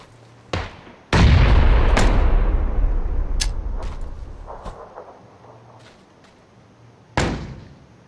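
A grenade blast and gunfire in a video game: a sharp shot, then a loud booming explosion that slowly rolls off, with a few scattered cracks and another close shot near the end.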